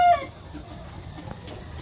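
Gamefowl roosters of asil type on a breeding farm give a short cluck at the start, followed by quieter farmyard background.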